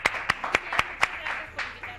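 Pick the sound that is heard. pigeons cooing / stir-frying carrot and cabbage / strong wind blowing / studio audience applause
studio audience applause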